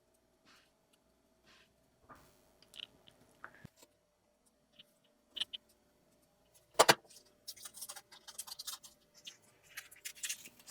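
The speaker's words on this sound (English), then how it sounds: "And then I just take a hobby knife and gently cut it out." A hobby knife cuts out a paint mask on a 1/32 Meng Fokker Dr.I model kit, giving sparse, quiet scratchy scrapes and small clicks, with a sharper burst of close scraping and rustle late on.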